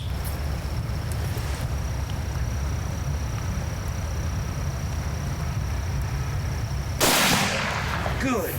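A single loud rifle shot cracks out near the end during an elk hunt in the Kentucky hills, sudden and close against a steady outdoor background hiss.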